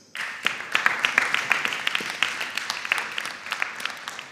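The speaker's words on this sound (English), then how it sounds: "Let's give ourselves a big round of applause." An audience at a junior high school quiz competition applauds after the end of the first round, a steady dense patter of many hands clapping together, loud and sustained without voices on top.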